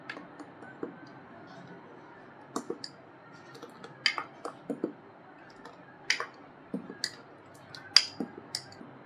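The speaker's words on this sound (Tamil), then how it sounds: "இப்போ இது எல்லாத்தையுமே நல்லா கலந்து விட்டுக்கலாம்." Spoon stirring a mango sago dessert with nuts in a bowl, giving scattered soft clicks and taps in an irregular rhythm, close and fairly quiet over a faint background hum.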